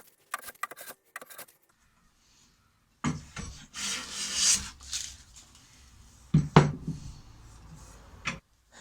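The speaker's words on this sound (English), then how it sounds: "Now that we've finished planing one of these sides flat" Scrap wood being flattened with a hand plane: a few quick rasping strokes, a pause, then longer shaving passes that swell and fade, close and moderately loud.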